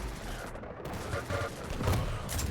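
Rocket launcher fire and blasts in the arena shooter Quake Champions during a competitive duel, a dense run of punchy bursts and explosions layered over busy game noise and commentary.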